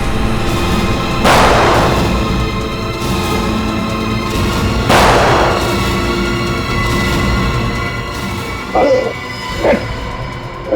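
Two heavy gunshots boom a few seconds apart in a crime drama TV scene, followed by a couple of sharper, quieter bangs, over a background of dramatic music.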